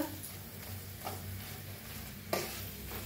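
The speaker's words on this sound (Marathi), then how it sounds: "1 मिनिटभर असंच हे करून घेऊया, हलवून" Potato and okra bhaji frying in a pan and being stirred, a soft steady sizzle with a few light scraping strokes and one brief clatter near the end, no talking.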